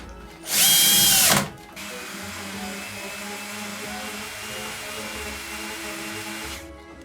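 A power drill whines in a short, loud burst while driving screws into a round LED mirror frame, then a steadier, quieter motor hum carries on for several seconds before stopping.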